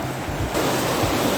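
Waves wash steadily onto a lake beach at Lake Rotoaira, a continuous close-up surf hiss with some wind noise throughout and no voices.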